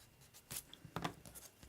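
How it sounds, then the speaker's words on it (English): A pencil drawing of a tree on paper being erased: a few faint, short rubbing strokes up close in a quiet room. "Let me erase that little section."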